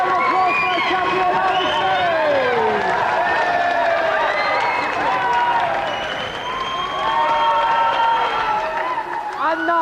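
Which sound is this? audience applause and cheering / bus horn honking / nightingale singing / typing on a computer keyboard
audience applause and cheering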